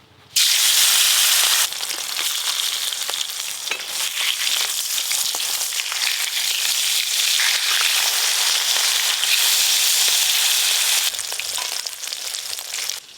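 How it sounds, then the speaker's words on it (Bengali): Hilsa fish pieces coated in salt and turmeric frying in hot mustard oil, a steady loud broadband sizzle that holds almost unbroken for the whole stretch, with brief dips and faint stirring noises. "সর্ষের তেল, মাছে তো আগে থেকে লবণ হলুদ মাখানোই আছে, এবার ভেজে নেব, হালকা করে ভাজবো।"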